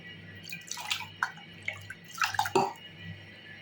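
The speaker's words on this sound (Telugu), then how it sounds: "వాష్ చేసుకున్న దాంట్లోకి 4 కప్పుల నీళ్లు పోసి" Four cups of water are poured over washed ingredients in a bowl, giving soft irregular splashes and drips with a brief louder pour, nearby and without voices.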